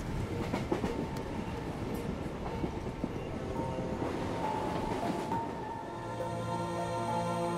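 A train runs steadily on rails with a continuous rumbling roar and faint clickety-clack, loud and close throughout with no voices.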